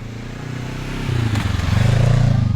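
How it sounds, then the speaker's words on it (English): Motorbike on the road approaching and passing close by, its engine note rising and swelling louder over a couple of seconds. "Here's a real motorbike."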